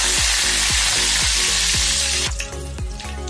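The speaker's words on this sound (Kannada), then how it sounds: "ಕರಿಬೇವು ಹಾಕ್ತಾ ಇದ್ದೀನಿ." Curry leaves dropped into hot oil already spluttering with mustard seeds and a pinch of asafoetida for an okra stir-fry, giving a loud, steady frying sizzle with repeated pops and crackles throughout, easing slightly toward the end.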